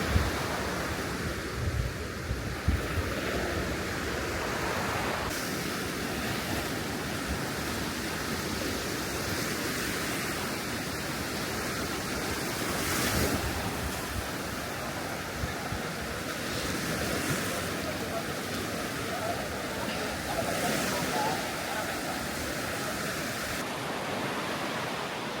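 Surf rolls onto Sao Beach on Phu Quoc Island, Vietnam, a steady wash of breaking waves with some wind buffeting the microphone and no talking.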